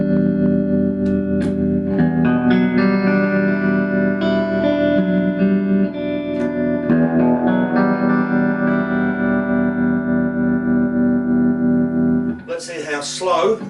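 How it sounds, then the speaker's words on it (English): An electric guitar rings out through a Romany TR20 amp with generous reverb, playing sustained chords and notes that run loud and continuous for about twelve seconds, then give way to a short, bright burst at the end. "you're quite welcome to have the reverb quite advanced as well"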